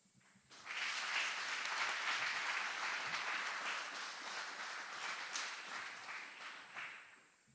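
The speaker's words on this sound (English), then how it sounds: "Please join us in giving a round of applause to these outstanding drill sergeants and instructors." Round of applause at an Army aviation graduation ceremony at Fort Eustis, a sustained burst of many hands clapping from a crowd that starts abruptly, holds for several seconds and then tapers off.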